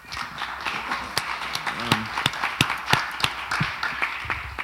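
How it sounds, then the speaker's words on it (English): An audience applauds at a live event in Venice: scattered, uneven claps with sharp individual hits, moderately distant and thin rather than a dense roar, with faint voices mixed in. "let's warm round of applause for Finian Makepeace."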